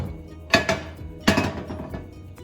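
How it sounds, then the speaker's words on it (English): A frying pan is set down on a stove top while cooking enchiladas, making two distinct metallic clunks a moment apart, each with a short ringing tail, close and fairly quiet. "I put this pan right here, and now I'm going to add a little bit of oil to this pan."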